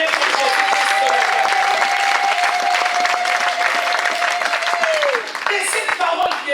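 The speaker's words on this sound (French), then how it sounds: "Est-ce qu'on peut acclamer pour Jésus-Christ?" A church congregation applauds and cheers for Jesus Christ, with dense, sustained clapping and crowd noise, loud and close, and a voice carrying over it before the applause thins at the end.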